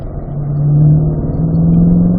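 Corvette engine on a race track pulling hard up through the gears in a performance driving school car, a loud close in-car drone that rises steadily in pitch as it accelerates.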